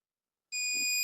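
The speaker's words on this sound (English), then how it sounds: "we have a beep" A multimeter gives a continuity beep while pins on a Sound Blaster AWE64 sound card are being tested, a single sudden high electronic tone that starts after a moment of silence and holds steady.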